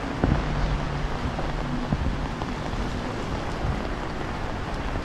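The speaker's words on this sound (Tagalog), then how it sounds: "Maulan na umaga Babes." Steady rain falls on a flooded, rainy morning outdoors, making a constant, even wash of patter with faint wind noise on the microphone.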